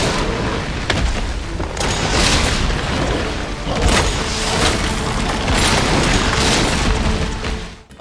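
Infinite rocket launcher in Resident Evil 3, loud continuous booming blasts and explosions rolling one into another, dense and sustained with no pause.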